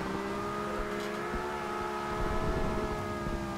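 Nissan Skyline 2000GTR drifting in Forza Horizon 2, its engine holding a steady high drone with tire squeal layered over it, loud and continuous throughout.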